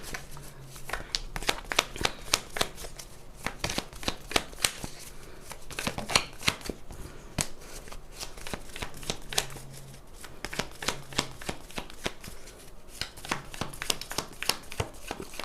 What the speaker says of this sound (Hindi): कार्ड्स को मैं शफल कर लेती हूँ।